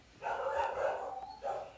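Dogs in a home bark and yip, a sustained whining bark followed by a shorter second one, moderately loud and slightly distant in a quiet room.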